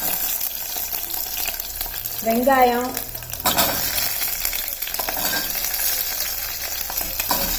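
Chopped vegetables with garlic and green chilli fry and get stirred in a hot pan for kurma, a steady close sizzle with scraping stirs and a clatter midway, while a voice talks briefly.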